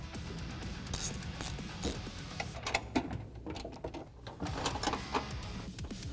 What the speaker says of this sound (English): we can now tighten these very far corner tie down bolts